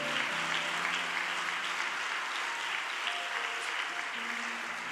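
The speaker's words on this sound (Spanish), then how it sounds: "Vamos a darle un aplauso a los que se conectaron con nosotros" Continuous congregation applause fills a church service, even and moderately distant with no pauses, while faint voices murmur underneath.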